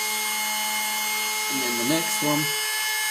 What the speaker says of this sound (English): Okay, so let's turn it on, and you never let go of the PCB until the drill bit is back out.